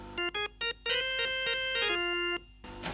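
Hammond organ on its trumpet preset, heard without a Leslie speaker: a quick run of short, bright staccato notes followed by a held tone, then a burst of noise at the end.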